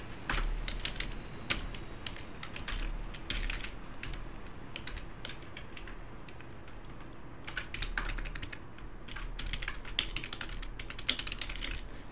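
Close, soft clattering of fingers typing on a computer keyboard, in quick irregular runs of keystrokes with brief pauses, alone and fairly quiet.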